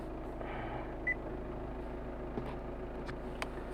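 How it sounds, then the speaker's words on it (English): A Honda car engine idles steadily, a low, even hum with a faint whine, while the car sits in limp mode with a parking brake fault code. Brief clicks and ticks rise above the hum, and no one speaks. "Now the engine is running at the moment."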